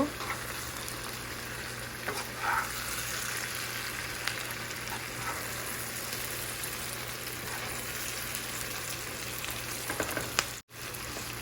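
Dried loitta fish fries with spices in a pan, giving a continuous close sizzle with occasional stirring scrapes and a brief drop-out near the end.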